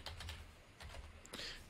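A handful of quick, faint keystrokes tapped on a computer keyboard while entering a password, in short irregular clusters with pauses between them; no one speaks.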